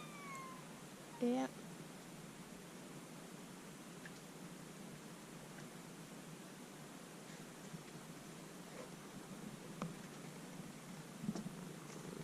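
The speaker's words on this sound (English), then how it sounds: "Cats of Great Harbour Cay waiting to be fed." Cats on Great Harbour Cay in the Bahamas meow and purr while waiting to be fed, with one short, clear meow near the start over a steady outdoor hiss and a brief spoken word.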